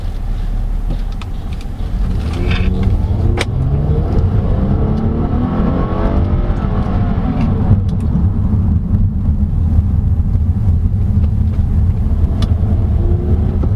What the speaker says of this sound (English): I forgot this was a V6 engine